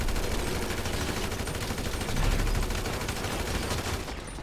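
Sustained heavy gunfire in GTA 5 Online, a continuous barrage of overlapping shots filling the whole stretch, loud and dense with no pauses and no talking.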